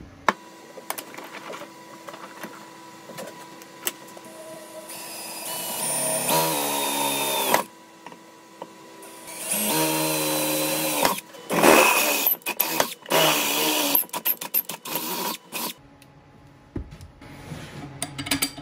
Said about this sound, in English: I'm gonna drill these holes now